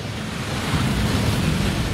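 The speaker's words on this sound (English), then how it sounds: "That waterfall washes away all enchantments." A waterfall at Gringotts in Hogwarts Legacy roars as a loud, steady, broad rush of falling water that swells slightly, close by, with no talk.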